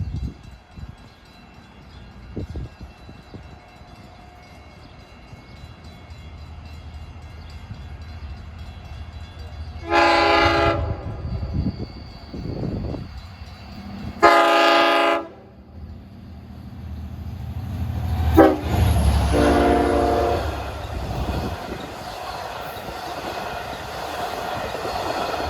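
Cannonball train 2708 approaching Oakdale station on the Montauk line, sounding two long horn blasts then a shorter one as the rumble and rail clatter grow louder, heard from trackside.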